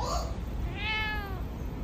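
Turkish angora cats meow close by, one clear rising-and-falling meow standing out over a steady low background rumble, with a softer cry at the very start.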